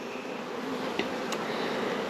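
Bees buzzing on a hive frame during an inspection, a steady close drone with faint high whine and a couple of brief clicks, no talking.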